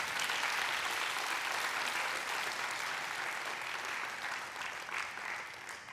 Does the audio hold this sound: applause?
yes